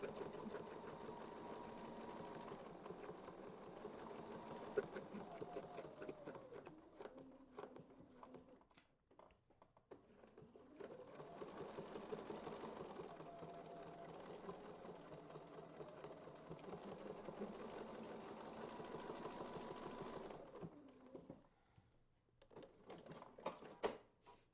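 A sewing machine stitches a frond quilting design in rapid, steady runs, pausing briefly twice between bursts, heard close and fairly quiet with no talk.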